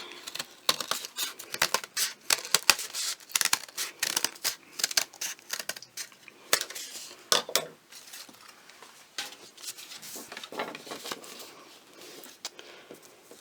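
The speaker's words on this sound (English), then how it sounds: "take your scissors and round that" Paper crackles and snips as scissors round off the edges of punched paper pieces for a decorative fan, a dense run of close, crisp cuts and rustles with no voices.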